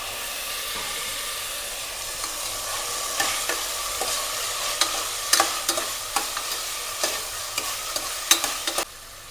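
Onion, aubergine and other vegetables frying and being stirred in a pan for a chickpea and potato dish, with a steady sizzle and a spatula scraping in quick, irregular clicks, heard up close and alone.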